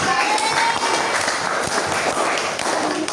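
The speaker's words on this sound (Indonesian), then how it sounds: "Beri tepuk tangan dulu." A classroom of students claps together in sustained, dense applause, loud and close, with voices mixed in beneath the clapping.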